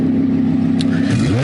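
An Audi R8 V10 with a QuickSilver exhaust in normal mode idles with a loud, deep burble close by, then revs sharply upward near the end of the short burst.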